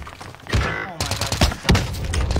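Gunshots in a video game shooter, several sharp loud bangs and thuds in quick succession at mid distance, with people talking briefly in between.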